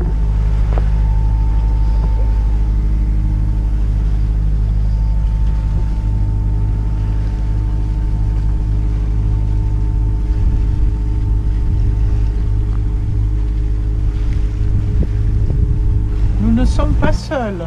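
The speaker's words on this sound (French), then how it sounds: "Là-bas, on voit un bateau qui sort." A boat engine drones steadily with a low rumble and wind noise on the microphone, with a faint higher whine near the end, as a boat passes at sea off Mallorca's coast between Sóller and Andratx.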